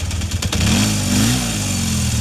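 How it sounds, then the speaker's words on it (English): A 1977 Kawasaki Z400 motorcycle on electric start cranks briefly, then catches and rises into a loud, close idle with a slight rev before settling into a steady burble. "It starts up pretty quickly,"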